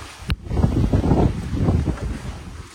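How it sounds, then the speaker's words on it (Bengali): Strong wind gusting during a heavy night rainstorm, a steady roaring rush with rumbling buffeting close to the microphone, and a voice speaking through it. "আজকে কালকে রাত্রে থেকে বিশাল জোরে হাওয়া দিচ্ছে"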